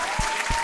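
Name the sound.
hands clapping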